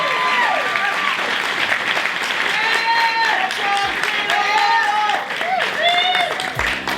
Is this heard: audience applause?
yes